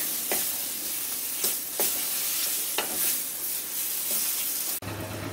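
Pumpkin peel paste cooks in a pan, a constant hissing sizzle broken by several distinct scraping stir strokes, and the sound shifts abruptly near the end.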